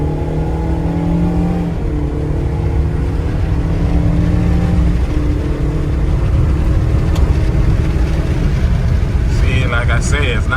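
A 2012 Scion iQ small car accelerating in sport mode, heard loud from inside the cabin. The engine note climbs steadily in pitch through the gears over a constant road roar.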